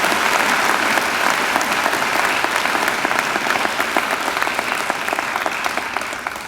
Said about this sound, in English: I think Angela deserves another great round of applause.